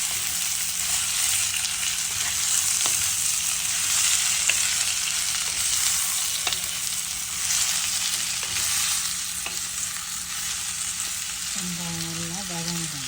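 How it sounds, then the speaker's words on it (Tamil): Onions sauté in a pan for a fenugreek curry, a loud continuous hiss of frying with occasional faint utensil taps, close by, and a brief voice near the end. "வெங்காயம் நல்லா வதங்கணும்."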